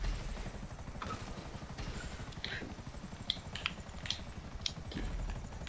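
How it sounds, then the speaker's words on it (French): A helicopter in a troll-themed multiplayer mini-game chops steadily with a fast rotor beat, accompanied by sharp clicks and small impacts, with no talk. "On est trois à voir l'hélico, les gars."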